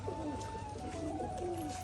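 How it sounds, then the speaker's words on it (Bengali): Rajshahi pigeons coo softly in repeated low, rolling calls at moderate distance, with faint background noise and no talking. "উপরে অনেকগুলো পায়রা উঠছে, ওই জন্য কিন্তু পায়রাটা ওড়াউড়ি করছিল।"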